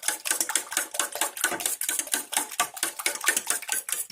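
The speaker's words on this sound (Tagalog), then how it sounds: "Batihin natin mabuti ang ating itlog." Eggs are beaten briskly in a bowl for steamed eggs, with a fast, even run of close clinking whisk or fork strikes against the bowl and no voices.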